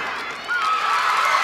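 Crowd cheering and shouting at a Georgia gymnastics meet in Stegeman Coliseum, an indoor arena, with a sustained roar of voices that swells partway through and then holds.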